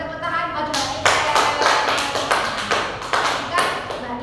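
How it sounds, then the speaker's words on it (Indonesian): A classroom of students claps for a classmate, a short burst of a few hands clapping in an uneven rhythm, close and fairly loud, with a little voice underneath. "berikan tepuk tangan buat Mbak Nika."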